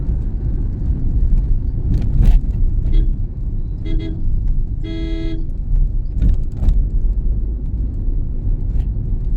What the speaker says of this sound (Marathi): तरी अजून ट्रॅफिक आहे पुढे